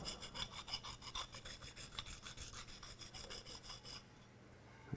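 A fine slipstone hones the wire edge off the inside curve of a woodworking gouge, giving faint, rapid rhythmic rasping strokes for about four seconds before stopping, with no speech.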